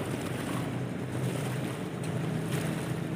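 Sand-hauling barge passing on a river, its low engine drone blending with churning water and wind buffeting the microphone, a constant broadband roar.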